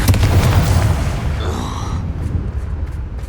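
A Confringo blast spell goes off in Hogwarts Legacy inside a mine, a loud deep boom with a rumbling burst that trails off over a few seconds.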